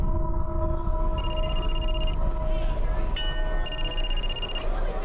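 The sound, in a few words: telephone ringing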